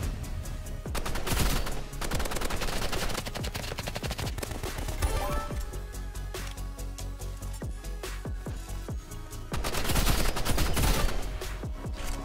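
Rapid gunfire from the Roblox shooter game Rivals crackles in dense, continuous bursts, loud and close, with heavier volleys near the start and again toward the end.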